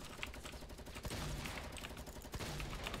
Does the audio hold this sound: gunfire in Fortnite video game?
yes